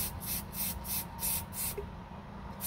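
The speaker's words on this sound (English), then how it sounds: "So we're going to do spurts instead of continuous spray." A spray can is fired in about six short, rhythmic spurts onto a resin tumbler, each a close, bright hiss separated by brief gaps, ending in quiet.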